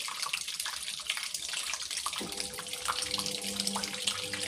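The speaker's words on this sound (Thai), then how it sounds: "เทน้ำทิ้งไปก่อนให้หมดถังเลยนะครับ" Water pours steadily out of a washing machine tub that overflows during repair, a continuous broadband rush with a lower gurgling tone joining partway through, close and alone with no talk.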